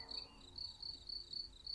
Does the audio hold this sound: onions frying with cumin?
no